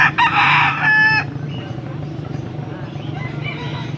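A bullstag rooster crows loudly at close range in one long call, followed by lower clucking and background murmur.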